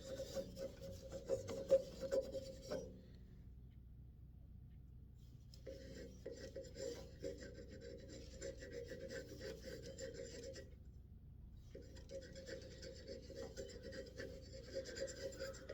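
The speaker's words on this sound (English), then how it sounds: "Okay, got that smeared in there pretty good." Wax finish is rubbed into a walnut shaving set spinning on a wood lathe, giving a steady close rasping friction that stops twice for a few seconds and resumes, with no talk.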